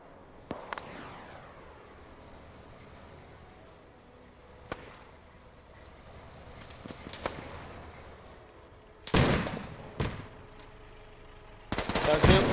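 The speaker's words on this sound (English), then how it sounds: "These gunshots are loud." Sharp gunshots crack out at scattered moments, with heavier bursts of rapid fire near the end, over a low steady background.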